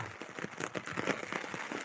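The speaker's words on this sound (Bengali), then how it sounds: "কত সুন্দর বৃষ্টি, মাশাল্লাহ" Steady rain patters and drips on a surface, with dense irregular taps filling the scene, fairly close and constant.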